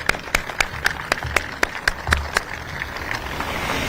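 A small crowd claps in scattered, separate beats at a library grand opening, the claps moderately close and fading out after a few seconds.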